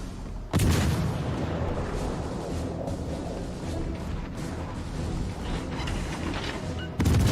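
Torpedo hits on an Iowa battleship in World of Warships Legends, heard as a loud booming blast followed by a long rumbling roar of gunfire and explosions, with another heavy boom at the end.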